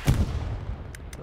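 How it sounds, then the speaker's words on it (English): Artillery fire in the World War II shooter Hell Let Loose: a heavy low boom at the start that rolls off into a rumbling tail, followed by a couple of faint distant cracks. "both artillery hitting just about the same area right now"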